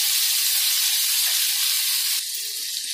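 Stuffed okra (bharwa bhindi) sizzles and fries in a pan with a steady, close hiss that settles slightly quieter near the end.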